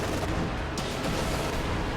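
Katyusha rocket artillery pounds a battle group headquarters in a real-time strategy game, a dense continuous roar of explosions and rumbling impacts filling the whole stretch at high volume.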